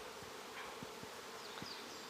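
Honey bees buzz steadily in a bee yard, a dense, continuous hum filling the whole stretch with a few slightly louder passes of individual bees drifting close by.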